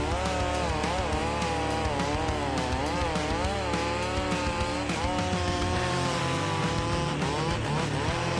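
A chainsaw engine runs steadily while its spinning chain bites into wood, a dense continuous buzz with wavering pitch as the load shifts, loud and close throughout with no talking.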